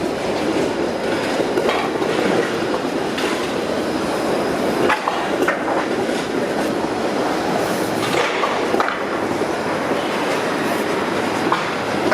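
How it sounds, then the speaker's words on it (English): A Bombardier Flexity streetcar rolls past on rails in downtown Toronto, with a loud, close rumble, rhythmic wheel clacks and occasional squeals over steady city background noise. "These Bombardier Flexity streetcars have been here for 11 years now."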